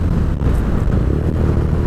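A BMW R nineT roadster motorcycle with a roughly 1200 cc engine, heard while riding: a loud, close, low engine drone mixed with wind rush, steady throughout, with no speech.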